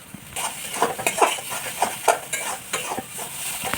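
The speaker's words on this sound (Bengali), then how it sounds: "এই মশলাটা ভালো করে কষে নেব" Spice paste of chilli and turmeric powder with salt being stir-fried in a pan, repeated rhythmic scraping and clinking strokes of a spoon over a low sizzle, close and fairly quiet, no voices.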